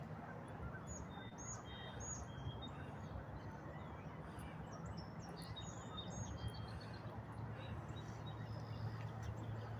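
Faint bird chirps and distant duck calls scattered over a steady low rumble of outdoor background noise, with no clear foreground sound.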